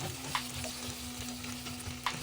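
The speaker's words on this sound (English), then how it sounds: "Sliced potatoes, mix it up." Sliced potatoes being stirred with soya chunks and tomato sauce in a hot pan, a steady soft sizzle broken by two sharper scraping clinks of the spoon, close and with no talking.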